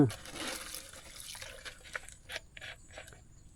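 Water scooped from a clear village water source, with splashes and drips close by and no talking.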